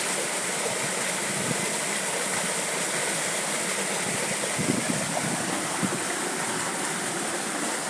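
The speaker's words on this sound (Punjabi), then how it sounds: "ਮੋਟਰ ਚੱਲਦੀ ਆ ਆਪਣੀ" A farm water pump motor runs steadily beside flowing water, giving a continuous, even rushing and humming wash at moderate distance with no voices.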